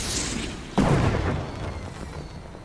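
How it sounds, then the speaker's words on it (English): A fireworks rocket launches in Fortnite at Lazy Lake with a sudden loud boom, followed by a rumbling burst that fades over the next second or two. "It's beautiful, the fireworks."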